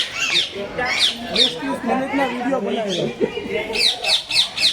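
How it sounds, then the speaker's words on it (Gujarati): A parrot at the Sakkarbaug zoo in Junagadh gives repeated harsh squawks in quick bursts, loud and near, with people talking in the background between the calls. "પોપટ"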